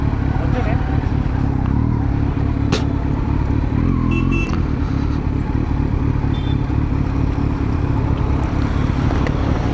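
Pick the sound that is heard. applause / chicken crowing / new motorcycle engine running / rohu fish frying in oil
new motorcycle engine running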